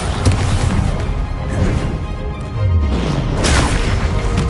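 A Bombarda blasting spell goes off in Hogwarts Legacy, a loud booming crash with sustained rumbling debris over several seconds, followed by a second heavy burst near the end.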